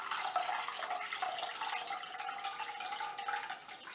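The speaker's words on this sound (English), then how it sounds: "Pour gently the liquid into another bowl" Dark liquid drained from soaked grated potatoes is poured gently into another bowl, a steady, soft trickling stream with light splashing throughout and no talking.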